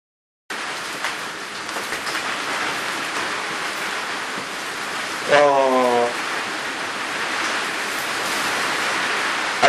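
Steady rain falling outdoors, a continuous dense hiss throughout, with a brief tonal squeal or voice-like sound partway through.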